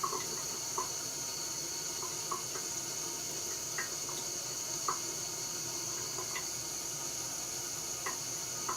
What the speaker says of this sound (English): now I'm going to pour just water into the tank